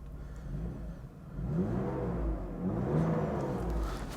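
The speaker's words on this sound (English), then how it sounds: "Engine sounds fantastic, because of course it does." A 1991 Mercedes-Benz 300TE-24 with a 3.4 AMG engine revs up from idle, a deep rumbling rise that swells and holds steady, close and loud with no talking.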